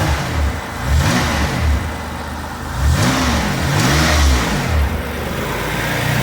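Six-cylinder engine of a 1993 Mitsubishi 3000GT revved several times from idle, each blip rising and falling, loud and close, with a steady rumble between the revs.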